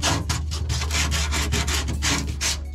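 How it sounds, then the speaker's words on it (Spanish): Rusty car body metal is sanded by hand with sandpaper in a quick, even run of close, moderately loud rasping back-and-forth strokes, with no talking. "se le da con una lijita a mano"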